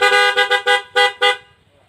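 A Honda Click version 3 scooter's low combination horn sounds six short, loud, close honks in a quick uneven rhythm, with no talking.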